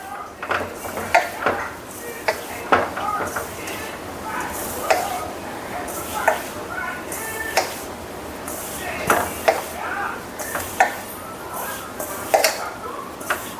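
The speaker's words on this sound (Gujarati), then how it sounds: "હવે આપણે લોટને સારી રીતે તેલમાં મિક્સ કરી લઈશું" Samosa flour dough being rubbed and mixed with oil in a bowl, a steady soft scraping and mixing with repeated small knocks and clinks of utensil against the bowl.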